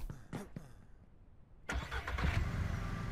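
A vehicle engine in Ranch Simulator cranks a couple of times after some clicks, then catches and settles into a loud, rough idle.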